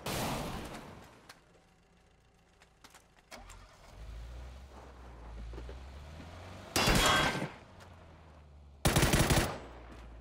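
Gunfire in PUBG on the Erangel map, heard as two loud, sharp full-range bursts late in the sequence over a low engine-like rumble and scattered quieter game noises, with no talking.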